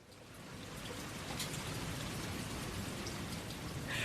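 Rain falls steadily in a garden at night, a dense, even hiss of drops striking surfaces that holds at a constant level from start to finish, with no voices.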